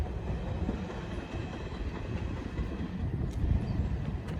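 A fast Norfolk Southern freight train rolls past at close range on railroad tracks, producing a steady, dense rumble of wheels and rail cars with faint rhythmic clatter and no speech.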